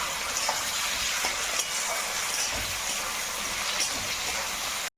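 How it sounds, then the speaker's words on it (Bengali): Tomatoes fry over already browned onions in a pan while being stirred, giving a steady close sizzle with light scraping and stirring knocks, alone without talk. "টমেটোটা একটু নরম হওয়া পর্যন্ত নাড়ানাড়ি করে নেব আর কি।"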